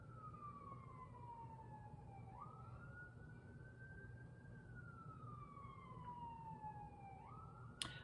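A distant wailing siren in Glendale rising and falling in long slow sweeps over a low background rumble, faint and far off.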